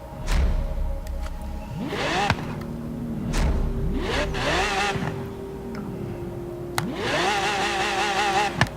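Lamborghini LM002 off-road truck with a V12 engine in Forza Horizon 3, revving hard through repeated rising gear-change sweeps with brief pauses between bursts, loud and close with no talk.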